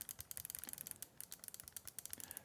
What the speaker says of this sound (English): This is going to be their mouse click triggers.